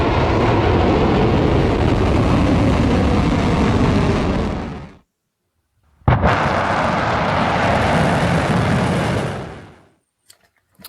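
Missile launches by the IRGC roar as two loud, sustained blasts, each lasting several seconds, split by a brief silence with an abrupt onset, and no talk.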